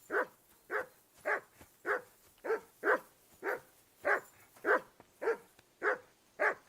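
A dog in the video game Kingdom Come: Deliverance II barks repeatedly in a steady, evenly spaced series of about a dozen sharp woofs, close and clear with no talk over it.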